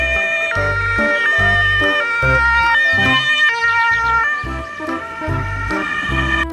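A toy ambulance siren plays a loud, bright electronic two-tone wail with thumping low beats, cycling steadily without pause.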